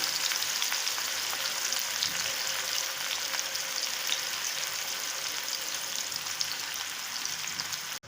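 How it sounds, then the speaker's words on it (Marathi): Curry leaves, crushed garlic and onion sauté in a pan for a moong curry with a dense, even sizzle that stays constant and fairly loud throughout. "आणि ठेचलेला लसूण टाकूया, परतवूया। कांदा नरम होऊन देऊया आपण।"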